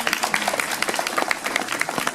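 An audience claps for a winning game contestant, a brief patter of crowd applause at moderate distance with a voice briefly heard over it.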